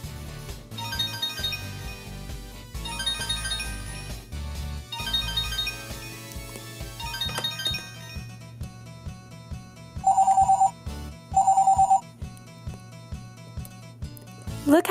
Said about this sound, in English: Oh, I think that's our cell phone ringing.